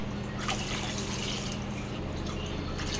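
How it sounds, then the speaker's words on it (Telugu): Water is poured into a cooking pot while making tomato bath, a steady liquid splashing and trickling that runs the whole time at a constant moderate level with no talking. "ఇప్పుడు ఇందులోకి సరిపడినన్ని వాటర్ వేసుకున్నాము."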